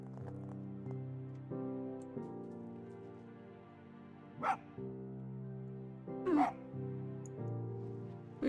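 Dog barks in the video game Spirit of the North, two brief sharp bursts standing out over a steady tonal game music bed.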